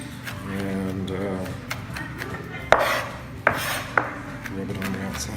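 A knife chops finely through garlic on a board for a rib roast's outer rub, a few sharp, distinct strikes over a steady rhythm of softer cuts while people talk throughout.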